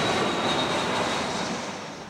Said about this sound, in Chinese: 这边是飞机真的很吵